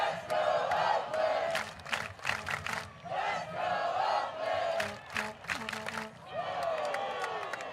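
A baseball crowd at a minor-league game comes alive with swelling cheers and shouts, loud waves of yelling rising and falling with scattered whoops and some clapping, with a commentator talking over it.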